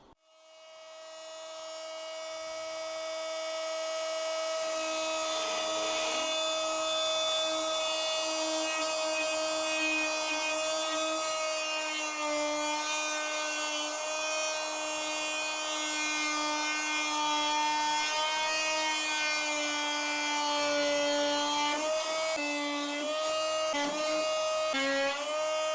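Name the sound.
oscillating plunge cutter cutting wooden canoe rib tops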